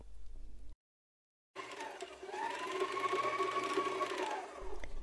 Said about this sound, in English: went to the sewing machine to quilt